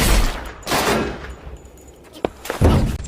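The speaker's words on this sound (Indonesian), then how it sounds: "Costello pun dengan cepat menarik pelapuknya dan berhasil menembak Fung hingga ngajongkeng" Gunshots in a film scene, several sharp loud cracks spaced through a few seconds, with a quieter pop between them and echoing tails.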